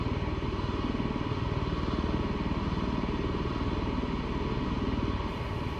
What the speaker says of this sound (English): There goes engine one, and there's engine two.